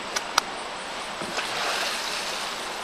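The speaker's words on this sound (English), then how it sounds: "let's move the paddle in place" A kayak paddle shifts into position in the water during an Eskimo roll, giving a couple of quick splashes and drips near the start over a steady wash of moving water, with no voices.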